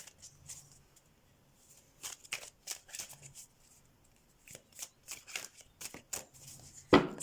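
Tarot cards shuffled by hand in quick, crisp bursts of riffling and sliding, close and fairly quiet, with short pauses between flurries and a sharper snap near the end.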